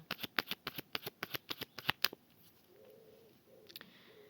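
A deck of tarot cards is cut and handled, producing a quick run of crisp, close card snaps for about two seconds, then near silence with only faint soft rustles.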